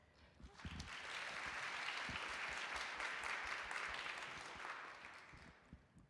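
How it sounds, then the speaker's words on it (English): A conference audience at WECode 2026 gives steady, fairly quiet applause as the first day closes, swelling quickly and then fading after about five seconds. "get another round of applause for all the speakers"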